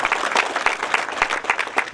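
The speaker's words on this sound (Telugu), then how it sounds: "మన ప్రియతమ నాయకులు సుదర్శన్ రెడ్డి గారికి చప్పట్లతో స్వాగతం తెలియజేయవలసిందిగా కోరుతా ఉన్నా." A crowd at a school foundation-stone ceremony applauds steadily in welcome, with many hands clapping at once, close by and sustained throughout.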